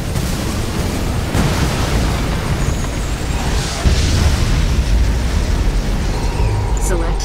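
An ion cannon strike lands in the strategy game Command & Conquer 3, a loud booming blast with rumbling low-end that swells midway through, while battle effects continue and game voice prompts speak alongside.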